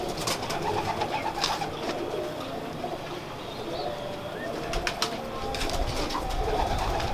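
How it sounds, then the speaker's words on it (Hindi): Ringed Teddy pigeons coo softly nearby, their low throaty calls blending with rustling and background noise. "जी ये टेडी कबूतर है हमारे, रिंगो वाले।"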